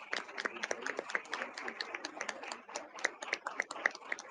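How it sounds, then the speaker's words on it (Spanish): Audience at a Russia–Ukraine panel discussion applauds, a dense run of many hands clapping at close-to-moderate distance, steady throughout with a slight lull midway. "así que un aplauso grandísimo"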